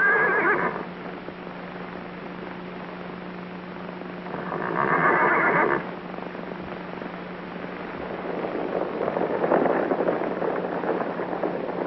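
A horse in a 1935 film soundtrack gives three separate whinnies spaced a few seconds apart, heard over a steady low hum and hiss in old, muffled recording quality.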